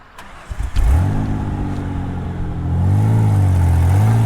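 A Ford Ranger pickup truck cranks and catches, then revs with rising and falling engine tones, loud and close, no talking.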